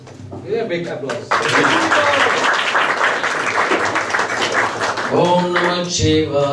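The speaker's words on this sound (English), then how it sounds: "big applause" Applause rises at a Siva Ratri celebration in a temple, dense clapping swelling after voices at the start, with singing or speech returning near the end.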